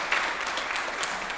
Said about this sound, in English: Toss It Up needs another round of applause for all that